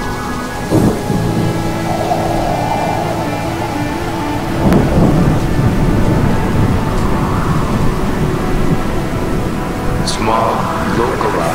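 An approaching thunderstorm brings a steady hiss of rain and a low, heavy thunder rumble that swells near the middle and then fades, with a brief sharper crack late on.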